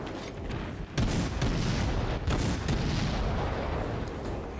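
Guns of a USS Sims destroyer firing in World of Warships, loud repeated booming salvos over dense continuous battle noise, no talking.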